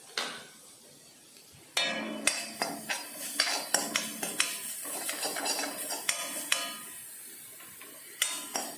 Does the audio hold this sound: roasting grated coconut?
yes